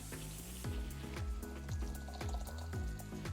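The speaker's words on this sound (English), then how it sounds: "Maybe pour half of it in?" Liquid is poured from a gallon jug into a portable van toilet, with a steady run of glugging gurgles that repeat in falling bursts. It is close and continuous, with no talking.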